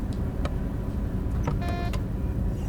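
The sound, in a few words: cab buzzer in the video game Train Sim World 2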